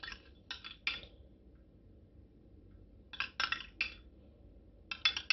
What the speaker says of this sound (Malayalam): നമ്മൾ നല്ലവണ്ണം ഇളക്കി യോജിപ്പിക്കാം